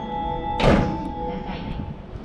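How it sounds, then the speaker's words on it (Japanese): A Sobu Line train's doors slide shut at Higashi-Funabashi station platform 2 with a single dull thunk, close by, over a steady electrical hum and faint station ambience. "2番線、ドアに閉まります。"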